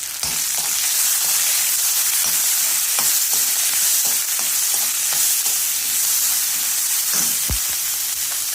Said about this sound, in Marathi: कांदा चांगला भाजला गेला